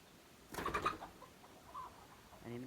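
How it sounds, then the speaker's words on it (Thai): A brooding hen on a rural farm gives a short burst of clucks, followed by a fainter cluck and a soft call near the end. The sounds are quiet against a low background hiss. "สองแม่ไก่กันฟักเรียบร้อย"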